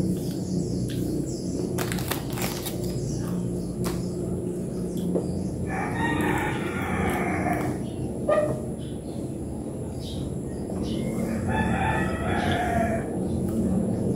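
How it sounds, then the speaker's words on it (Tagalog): A rooster crows twice in the middle distance, a few seconds apart, over steady heavy rain and occasional faint clicks. "Nanggigising po ang mga tilaok ng manok"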